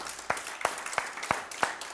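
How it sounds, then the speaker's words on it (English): A church congregation at an Easter Sunday service claps hands in a slow, regular rhythm, six or so bright, evenly spaced claps ringing out over a soft background wash. "Give the Lord a hand clap."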